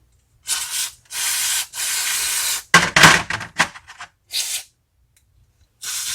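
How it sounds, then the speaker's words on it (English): Several short bursts of hissing fluid sprayed into lawn mower parts, a few seconds apart, with a brief clattering handling noise in the middle, close and fairly loud. "Anywhere you see a hole, essentially you want to spray some fluid in there."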